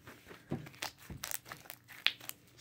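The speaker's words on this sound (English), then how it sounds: "Crunchy bubble." Crunchy slime being pressed, giving scattered crackling pops and crinkly snaps at an uneven rhythm, close up and fairly quiet.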